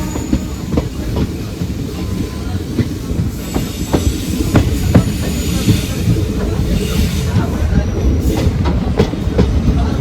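A second-class passenger train rolls along the old Kollam to Aryankavu railway line, a loud, steady rumble with rhythmic wheel clicks over rail joints heard from inside the carriage.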